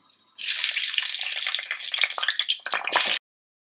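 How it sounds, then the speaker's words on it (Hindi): Onion hits a cup of hot oil and fries on a high flame for a dhaba-style masala bhindi, with a sudden loud, bright hiss and crackle that holds for about three seconds, then cuts off. "प्याज को डालने के बाद यहाँ पर आपने इसको फ्राई होने देना है हाई फ्लेम पर"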